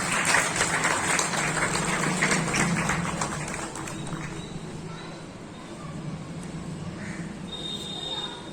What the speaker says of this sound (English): Please give them all a huge round of applause,